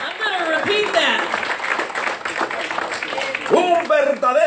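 A church congregation applauds the Lord during a Spanish-English bilingual service, with ragged clapping running throughout while a preacher's voice keeps talking over it.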